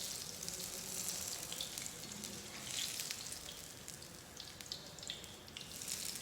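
Pakoras deep frying in hot oil give a steady, close, broadband sizzle with crackling bursts throughout, and no one speaks.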